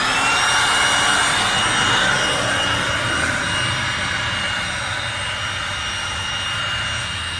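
An electric air pump runs steadily to inflate a bed for sleeping, a loud, continuous whirring drone that holds level for the whole stretch with no talk over it.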